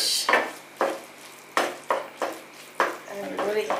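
Spatula scraping and clacking through scrambled eggs in a pan while making egg bhurji, a series of sharp repeated strokes at an uneven rhythm, close and fairly loud.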